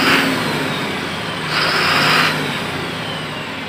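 An Eicher Pro 6048 BS6 truck engine, with an accelerator fault, revving to about 2500 rpm: a steady, close mid-pitched engine drone that swells briefly in the middle as the throttle is touched, then settles back, with no talk.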